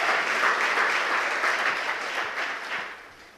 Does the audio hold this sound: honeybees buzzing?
no